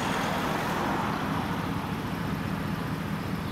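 A Dodge Ram with a 5.7-litre V8 Hemi and loud aftermarket exhaust rumbles on the road, a steady deep drone heard from inside or close by, with no voices over it.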